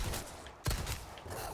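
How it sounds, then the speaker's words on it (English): A single sharp pistol shot cracks out in Resident Evil 4 amid a dense, noisy game backdrop. "Once he's down, I switch to the pistol. Take it out with the pistol."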